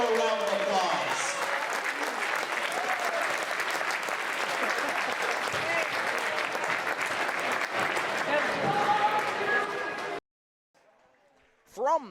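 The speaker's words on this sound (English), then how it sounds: "Let's give everyone one big more round of applause." Sustained crowd applause fills a high school gymnasium at a Shanley High School varsity basketball event, loud and dense for about ten seconds before cutting off abruptly into near silence.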